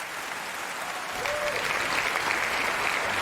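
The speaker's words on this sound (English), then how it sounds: "Let me get the big hand claps going, man." A canned sound effect of big hand claps plays on a radio show: dense, loud applause that swells slightly after the first second and holds steady to the end.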